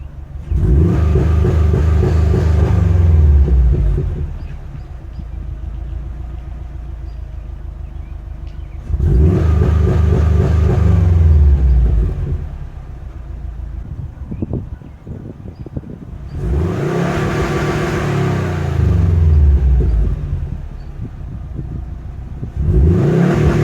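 Subaru WRX hatchback from 2012 fitted with a Greddy Supreme SP exhaust, bouncing off its two-step launch limiter outside: three loud bursts of rapid popping, rasping engine revs, each several seconds long with quieter idle between.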